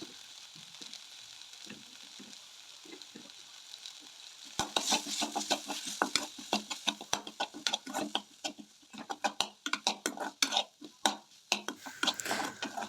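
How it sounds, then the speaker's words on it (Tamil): Vegetables sizzle and crackle in hot oil in a pan for vegetable paneer soup, with a quiet stretch before louder stirring and frying bursts take over, close up. "காய்கறியெல்லாம் கொஞ்சம் எண்ணெயில் நல்லா வதக்கிட்டு"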